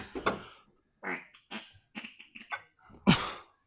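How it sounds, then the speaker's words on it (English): A mallard duck quacking outdoors, several rough, raspy calls in short bursts with gaps between them, the loudest near the end. "That was a mallard."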